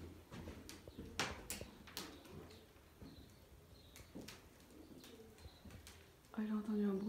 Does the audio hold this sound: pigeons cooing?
yes